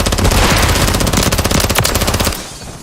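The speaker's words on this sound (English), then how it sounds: "Hostiles deployed the remote turret." Remote turret machine gun in Call of Duty Modern Warfare 3, a loud rapid burst of continuous automatic fire that cuts off near the end.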